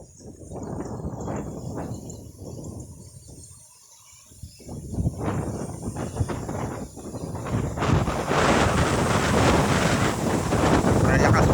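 Strong wind over a rice paddy buffets the microphone in a continuous roar, easing briefly before gusting louder and steadier toward the end.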